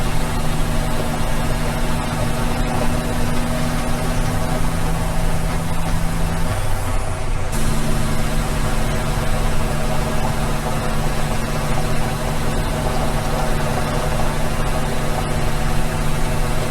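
Truck in the Satisfactory video game driving through tight turns at a truck depot, its engine droning steadily and loudly, with a brief air-brake hiss and pitch change midway.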